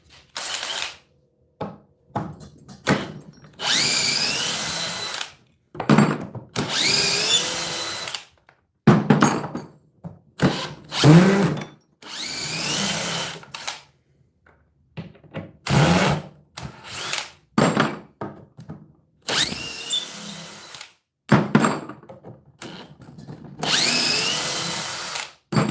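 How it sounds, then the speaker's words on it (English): A DeWalt DCD1007 hammer drill runs in drill mode at speed 3 on a fully charged 5 amp-hour battery pack, whirring and ratcheting in repeated loud bursts separated by brief pauses, with no talking. "the Dewalt's on speed 3. Drill mode."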